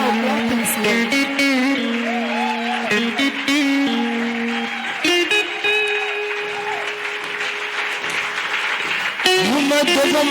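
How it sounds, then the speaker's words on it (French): Church congregation applauding during a service, sustained loud clapping mixed with a tonal voice or music and an effects-processed sound throughout. "Can you clap for Jesus?"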